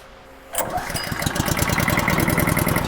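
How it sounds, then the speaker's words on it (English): A small gas engine on a PolyShark pump machine is started after half a second of quiet, then runs with a fast, even, close chugging rhythm that holds steady and slightly builds. "We're going to go ahead and fire up this motor here."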